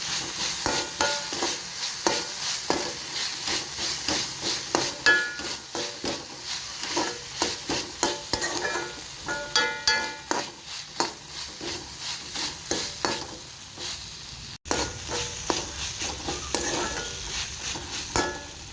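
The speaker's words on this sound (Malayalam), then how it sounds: "അതിലേക്ക് ഇഞ്ചി വെളുത്തുള്ളി പേസ്റ്റ് ആക്കിയത് ഇട്ടിട്ട് ഒന്ന് വരട്ടോ" Ginger garlic paste sizzles and fries in a hot pan while being stirred steadily, with frequent scraping and clinking of a utensil against the pan, continuous and close throughout.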